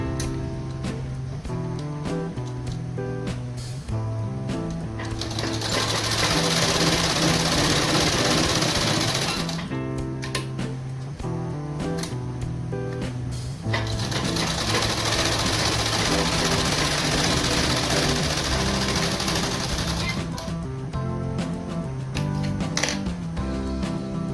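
Domestic sewing machine stitching a belt onto salwar fabric, running in a steady mechanical whir that swells louder in two long bursts with brief pauses between, close by and with no talking.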